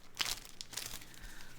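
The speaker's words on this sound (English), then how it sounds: "plastic bag, a Ziploc variety this time" A Ziploc plastic bag crinkles and rustles in close handling while a PSA graded Pokemon card slab is cracked open. Bursts of crisp crackling come in short uneven clusters, with no talking.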